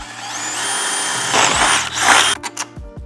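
A power drill bores holes during a stop stay install on a Mercedes Sprinter NCV3, its rising motor whine working through metal for about two seconds, then a few short knocks and clunks, close and fairly loud with no talk.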